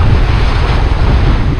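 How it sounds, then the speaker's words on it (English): Rough ocean surf rolls onto the shore at Mambo Beach, Curaçao, a loud continuous wash of breaking water with heavy wind buffeting the microphone. "Because the water is pretty crazy on this side, the waves."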